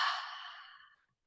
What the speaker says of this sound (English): A full releasing, let go, exhale.